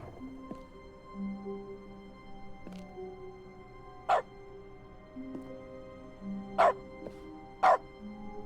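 Dog barks in the video game The Stanley Parable Ultra Deluxe: three short, sharp barks spaced a couple of seconds apart over a quiet background with faint tonal hum.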